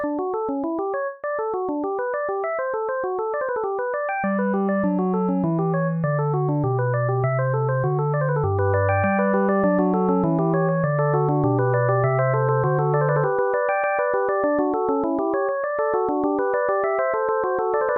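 A Bach canon played on keyboard, a bright line of quick sixteenth notes chased closely by a lower voice entering a few seconds in, steady and clear with no talking.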